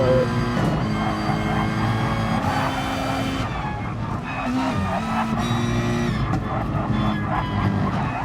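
Race car engines roar steadily from a sim racing game at the Dragon Trail circuit, several cars passing with rising and falling whines and gear changes, loud and continuous.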